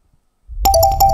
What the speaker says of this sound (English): an alarm will go off to tell you when you have to stop